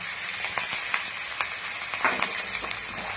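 Chopped tomato, coriander, cumin and fennel spices frying in a pan for a spinach and fish-head chorchori, a steady crackling sizzle with occasional stirring scrapes and no talk.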